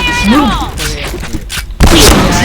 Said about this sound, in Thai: ระเบิดครับผมตายเพราะระเบิดครับ